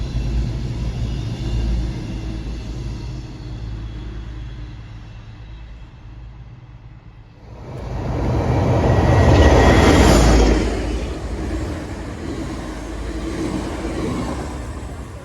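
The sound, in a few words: Class 221 Avanti train passing on West Coast line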